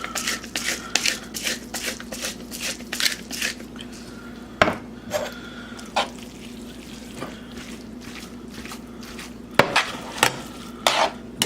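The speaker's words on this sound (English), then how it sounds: "You just slowly get that mixed into your pasta" Chicken roulade sauce being stirred into pasta in a pan, repeated soft wet scraping and clinking of a utensil against the pan, close up, with a steady low hum underneath.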